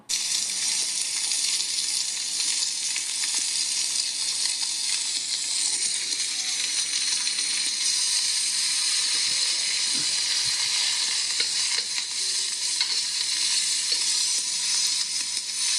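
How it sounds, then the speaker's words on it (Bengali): A steady, loud sizzle of potatoes frying with spices in a hot pan, continuous hiss with no talking. "কিছুক্ষণ পর ভাজা আলুগুলো মশলার ভিতর দিয়ে ভালোভাবে মিক্স করে নেব।"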